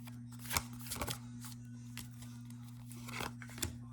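Tarot cards being shuffled by hand before one more card is drawn, a soft, close riffling and sliding with a few sharper flicks over a steady low hum, no talking.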